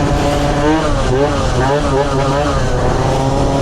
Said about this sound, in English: this bike just sounds so good, man